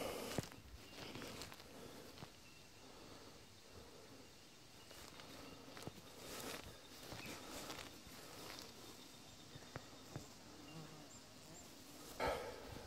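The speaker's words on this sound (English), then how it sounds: "A few bees are out flying." A few bees fly around outdoors on an overcast day after heavy rain, giving a faint, low buzzing against quiet background noise, with occasional footsteps and light knocks.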